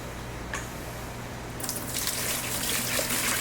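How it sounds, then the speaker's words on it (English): Stale fuel pours steadily into a container, a soft continuous splashing gush that swells after a brief quiet start, with a faint trickle at first. "And I'm going to pour this nasty fuel in here."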